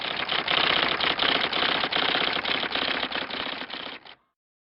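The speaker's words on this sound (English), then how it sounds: "Superman typed the amazing story of Mort Wheeler in Batman and Robin, then, ripping the last page of the story from his typewriter" A manual typewriter clatters in a rapid, steady run of keystrokes for about four seconds, close and clear with no talk, then stops abruptly, as in an old Superman radio drama.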